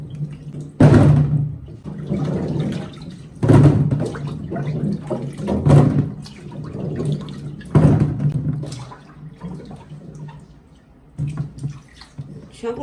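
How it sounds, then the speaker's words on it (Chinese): Plums being rinsed clean in water after a 20-minute salt-water soak, with several loud splashing bursts of hands stirring the fruit at close range, separated by quieter trickling. "泡20分钟后，我们再次给它清洗干净。"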